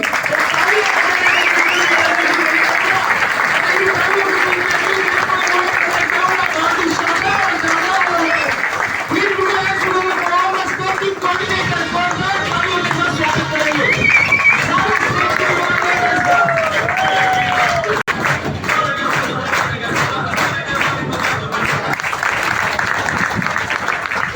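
An audience at a Kalyan lifestyle marketing gathering claps steadily and continuously, with a voice carrying over the applause and some chatter and laughter in the crowd.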